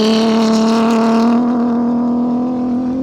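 A Toyota Gazoo Racing rally car roars past in the desert, its loud engine note holding a strong steady pitch that dips slightly as it goes by, close and alone without speech.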